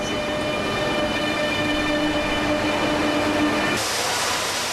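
A steady, loud roar of a Spanish AVE high-speed train rushing past at Zaragoza, broadband rumble and hiss holding for several seconds with a shift near the end.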